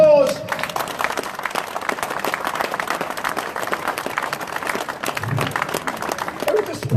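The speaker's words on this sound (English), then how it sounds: "give him a round of applause" Applause from an audience at a Northern Ireland veterans' event honoring a Parachute Regiment sergeant, a crowd clapping throughout with scattered voices mixed in, fairly loud and busy.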